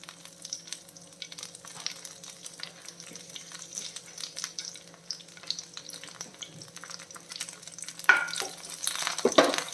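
Curry leaves sizzle in about three tablespoons of hot coconut oil in a pan while making a brinjal fry, a low, steady frying hiss that swells into louder crackling bursts near the end.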